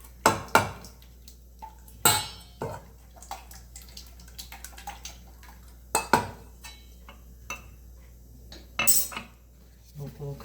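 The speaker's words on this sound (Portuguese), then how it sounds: "Eu vou mexer para misturar o ovo com o óleo." Egg and oil stirred together in a bowl for a cocoa cake batter, with sharp, intermittent clinks of a utensil against the bowl between quieter scraping, close by and with no talk.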